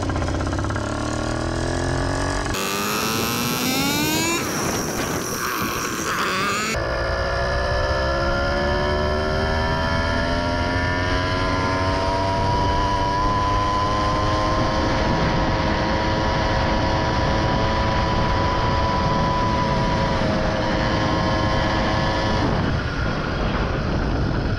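A Yamaha YD100 motorcycle engine running lean as it runs out of gas, a loud, steady buzzing drone whose pitch sweeps and wavers over time, with a harsh noisy stretch early on.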